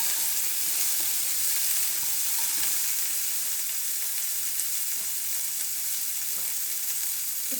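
Pirandai (adamant creeper) fries in a pan on low heat with a steady, even sizzle and faint stirring, heard close with no talking.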